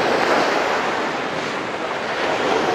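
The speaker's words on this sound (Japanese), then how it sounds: "思ったより波高いですね" High ocean surf at a Hawaiian beach roars as a continuous, loud wash of breaking waves, steady throughout with no voices.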